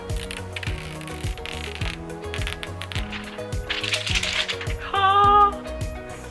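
Protective film being peeled off a new Xiaomi Redmi S2 phone, a close crinkly crackling and tearing over a busy background of tonal music, growing louder near the end.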